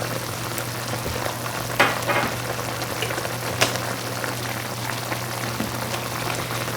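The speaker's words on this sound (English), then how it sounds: "Add a little bit of water and simmer it until the meat is tender." Beef short ribs simmer in water with soy sauce, a steady bubbling hiss with a low hum beneath and a couple of brief clicks, heard alone.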